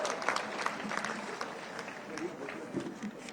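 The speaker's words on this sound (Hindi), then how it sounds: "थोड़ा ताली बजाइए तो मुख्यमंत्री जी घोषणा भी कर सकते हैं।" A crowd at a political rally for a Halba-Halbi tribal community gathering in Godalwahi claps in a dense, sustained wash of applause, fairly steady with slight swells, while a voice carries over it.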